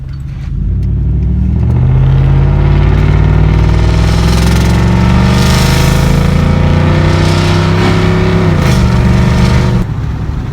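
A 2015 Ford F-150 with a 5.0 V8 and its resonator and muffler deleted revs loud and deep, the exhaust rising steadily through a long pull before dropping back near the end, close and without talk.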